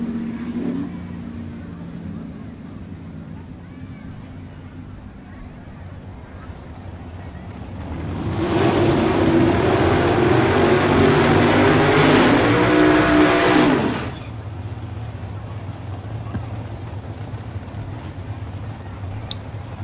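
A drag race pairing of an '81 Camaro and a '63 Corvette at Tulsa Raceway Park: a loud, broad engine roar swells in and holds for about six seconds before cutting off, framed by quieter ambient track noise.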